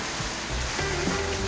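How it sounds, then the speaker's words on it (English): Rain falls steadily outdoors in a backyard where chickens are kept, a soft, even hiss with low, dull patters underneath and no voices. "So the rain is here."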